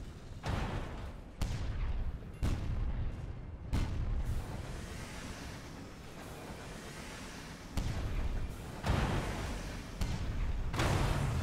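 Airship cannon firing in Sunless Skies, a run of heavy booming shots spaced roughly a second or two apart, each with a deep thump and rumbling tail, loud and alone.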